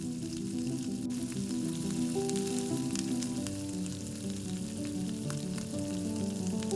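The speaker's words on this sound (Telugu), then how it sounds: "ఒక కప్పు పెరుగు మీడియం ఫ్లేమ్లో పెట్టి అదంతా కలుపుకుందాము." Chicken pieces and a cup of yogurt sizzle steadily in a pan over a medium flame while being stirred, a continuous close frying hiss with faint stirring scrapes and no speech.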